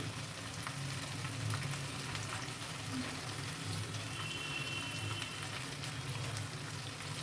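Green chilies hit hot oil and fry with a steady, dense sizzle that crackles evenly throughout, close and fairly loud, with no talking.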